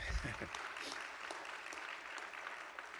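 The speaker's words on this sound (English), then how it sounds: "you're applauding them, not me" Audience applause at an MLK Day talk on education and civil rights, a broad sustained wash of many hands clapping, steady and fairly distant, with no voices over it.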